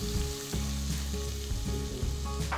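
Chopped ginger and garlic sizzle steadily in a pan on a low flame for a khichdi, a continuous close crackle with a few brief stirring scrapes.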